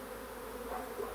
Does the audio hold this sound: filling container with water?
no